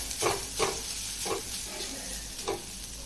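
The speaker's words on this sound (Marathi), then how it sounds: "थोडासा आता आपण भाजून घेऊ म्हणजे आपला कांदा पूर्णपणे भाजला जाईल" Chopped onion fries in a pan, a constant close sizzle broken by several distinct stirring scrapes spaced about half a second to a second apart.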